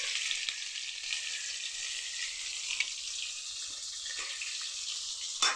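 Fish frying in hot oil in a kadai, a continuous crackling sizzle with small spits and pops and a sharper pop at the end, heard alone without talk.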